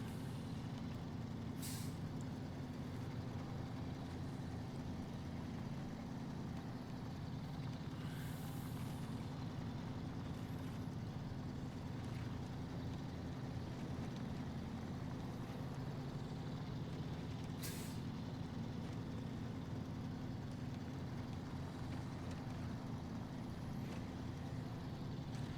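Heavy truck in the SnowRunner video game grinding along off-road toward a bog, a steady low engine drone with a couple of short hissing air bursts over about 25 seconds.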